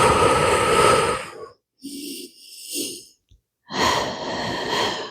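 Deep breaths during a Pilates exercise: a long loud exhale, two short soft breaths after a near-silent pause, then another strong airy exhale, with no talking.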